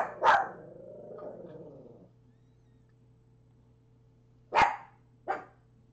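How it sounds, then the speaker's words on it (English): A pet dog barks indoors: a sharp bark at the start, followed by a lower trailing growl-like sound, then two more sharp barks close together near the end after a quiet pause. "You stop that barking."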